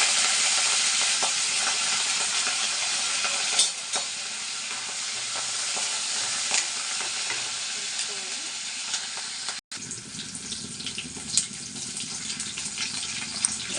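Mustard seeds, green chillies and curry leaves fry in hot oil with a loud, continuous hiss and crackle and occasional sharp pops. The sizzle drops out for a moment near the end, then resumes.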